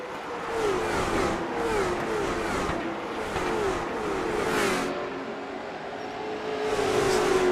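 Late model stock cars race at North Wilkesboro Speedway, a steady loud roar of engines with rising and falling revving as cars pass, continuous throughout and swelling near the end.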